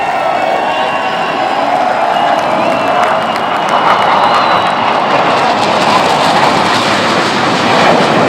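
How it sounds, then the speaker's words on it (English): Military jets fly over a golf championship, the 2021 U.S. Open at Torrey Pines, a broad loud engine roar swelling and sustained across the whole moment, with crowd noise faintly beneath. "here come the Jets now"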